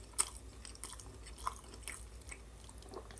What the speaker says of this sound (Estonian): Ta võtab ühe suure kartuli ja ta närib seda võib-olla 1-2 korda ja siis kulpib alla selle.